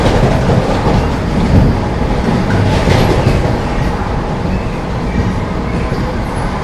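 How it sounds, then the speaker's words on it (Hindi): Onboard the Delhi–Khajuraho Vande Bharat Express near Vrindavan Road as it overtakes the Punjab Mail, a loud, continuous rail roar with faint rhythmic clatter of wheels fills the whole stretch. "बैक टू बैक ओवरटेक मार रही है अभी अपनी वंदे भारत एक्सप्रेस।"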